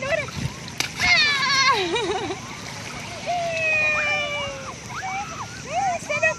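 A child jumps into the sea at a beach, making a short splash amid lively children's voices and shouting, with gentle water movement throughout.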